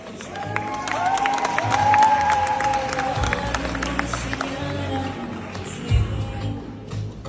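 Audience applause at a wedding celebration, sustained clapping from a crowd under an amplified voice and background music, steady and moderately loud throughout.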